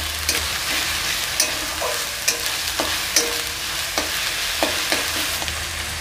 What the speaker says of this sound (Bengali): হাফ চামচ দিচ্ছি আদা বাটা, দিয়ে খুব ভালো করে কষিয়ে নেব।